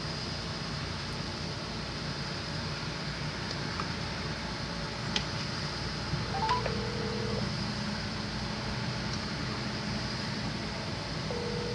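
A phone dials out with a few brief tones against a steady hiss of road and engine noise inside a moving truck, the tones faint and spaced apart.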